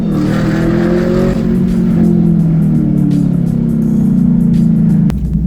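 The 6.2-liter V8 of a Chevrolet Camaro roars loudly and close, holding a deep, rising engine note for several seconds before it cuts off sharply near the end.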